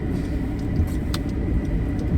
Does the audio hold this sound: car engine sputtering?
yes